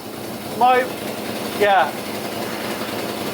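A Mercedes AMG Hammer V8 idles steadily with a smooth, even engine hum throughout as someone speaks two short bursts over it.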